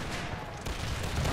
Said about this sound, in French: Là, il y a ces fusils qui tirent sur les carabiniers qui sont là.